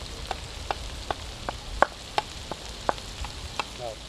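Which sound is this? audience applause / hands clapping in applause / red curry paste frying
red curry paste frying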